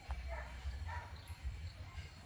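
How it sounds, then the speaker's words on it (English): Several dogs bark and yip in the distance in Jamaica, scattered and intermittent, over a low rumbling background. "you can hear a lot of dogs barking"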